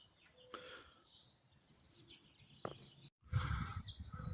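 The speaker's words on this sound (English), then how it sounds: "A lot of birds are chirping right now." Birds chirp and call intermittently in a cemetery in Alpine, California, with bright short tweets scattered over a soft outdoor background and a burst of louder rustling noise near the end.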